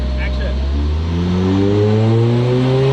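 A Lotus car engine runs at full throttle. Its loud, rising engine drone climbs steadily in pitch across the whole clip.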